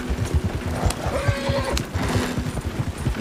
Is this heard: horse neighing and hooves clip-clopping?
yes